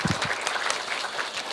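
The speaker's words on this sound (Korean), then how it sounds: "힘찬 박수 한 번 더 다시 부탁드리겠습니다" Audience at a community panel discussion on multicultural family policy applauding, a dense, steady wash of clapping heard from the room, moderately faint and continuous.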